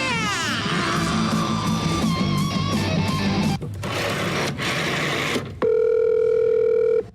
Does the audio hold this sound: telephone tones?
yes